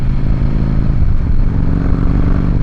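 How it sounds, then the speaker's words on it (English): Harley-Davidson CVO with a 110ci V-twin and S&S 551 cams accelerating hard, a loud, close, continuous engine roar pulling up through the revs without a break. "that acceleration was rapid, and now it pulls very, very hard into the high RPMs"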